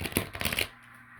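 A deck of tarot cards is given a quick riffle shuffle, a short burst of crisp, close papery flutters that stops abruptly and gives way to quiet.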